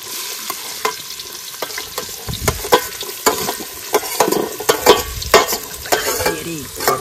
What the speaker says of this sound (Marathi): कांदा मस्तपैकी भाजून घ्यायचा